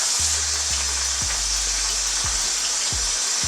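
Broccoli sizzles loudly in a hot pan for a vegan stir fry, a steady bright frying hiss with repeated low thumps and scrapes as it is stirred, close and continuous.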